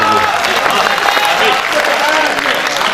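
An audience at a poetry recital bursts into steady, dense applause, loud and close, with scattered voices mixed in throughout.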